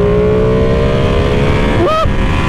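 A Ducati Panigale V2 motorcycle accelerating hard on a road in Mexico, its engine roaring loud and close with rising tones, then briefly dipping and climbing again as it shifts.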